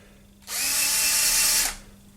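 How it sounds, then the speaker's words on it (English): A Makita power drill whirs for about a second as it chamfers a locknut for a rotating welding positioner. It spins up sharply, holds a steady high whine close by, then winds down. "I'm using my Makita drill here"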